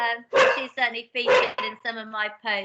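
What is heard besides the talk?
dog barking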